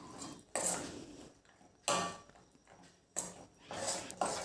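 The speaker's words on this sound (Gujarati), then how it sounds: "હવે બધું સરસ મિક્સ કરી લેવાનું." Cashew and garlic curry being stirred in a pan, with three loud bursts of metal scraping and clanking at roughly one-second intervals and quieter stirring between them, heard alone with no talk.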